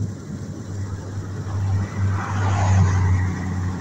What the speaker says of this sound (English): Why is there so many cars right now?